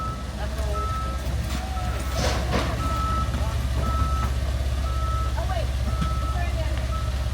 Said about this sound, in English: Lots of forklift work.